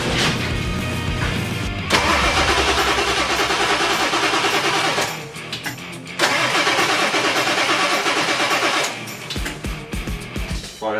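A 1997 Ford 7.3 Powerstroke diesel cranks and fires, loud rough engine bursts that surge, dip and catch again several times, close by with no talk.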